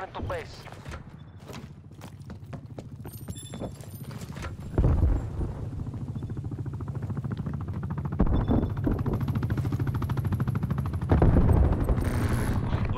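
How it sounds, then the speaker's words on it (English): Enemy attack helicopter and gunfire in the Call of Duty Cold War video game: a steady rotor-like thumping and rapid bursts of shots, growing louder toward the end, with voices talking over the action. "enemy attack helicopter above"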